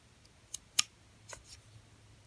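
A few quiet, crisp snips of scissors trimming a small handmade rainbow charm, with two sharp cuts close together and then softer ones, in an otherwise still room.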